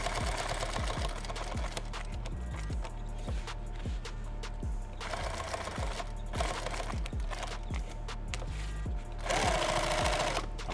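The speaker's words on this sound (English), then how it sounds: "I wanna nail that same stitch line" A sewing machine runs contrast thread around a Thermacell pouch, with rapid, steady stitching bursts broken by brief pauses and restarts, close and clear with no talking.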